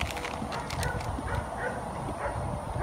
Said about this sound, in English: There's just like dogs in the background.